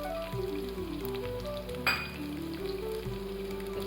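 Chopped ginger and garlic frying in a pan for dal fry, a steady soft sizzle running throughout with a faint stir scrape partway.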